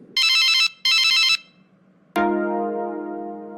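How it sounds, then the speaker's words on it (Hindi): A telephone rings twice in loud electronic trills, then after a short pause a single bright chime strikes and slowly fades out. "तभी फोन की घंटी बजी।"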